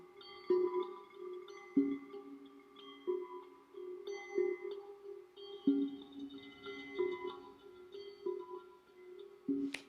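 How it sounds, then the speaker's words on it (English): A singing bowl's soft metallic ringing tones sustain and overlap, with gentle repeated strikes at intervals, quiet and resonant against a faint background hum. "In this safe space with this beautiful noise, these sounds, the singing bowl right now"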